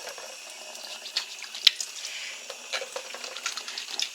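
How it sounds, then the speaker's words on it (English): Water runs steadily from a tap with splashing and a few sharp drips and clinks, like hands being washed under the stream. "Do my 20-second hand washing."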